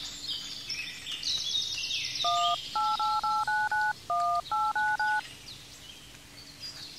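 A quick run of phone keypad tones, about ten short beeps in two bursts, plays over a soft hiss and faint high chirping.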